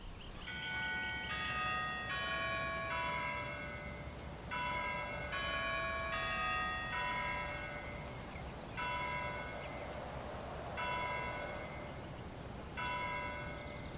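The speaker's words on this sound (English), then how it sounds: "you can hear the bell go off" Church bell tolling on the hour in the video game GTA 5, a series of resonant bell strikes at regular intervals over about fourteen seconds, each ringing out and fading over a soft ambient background.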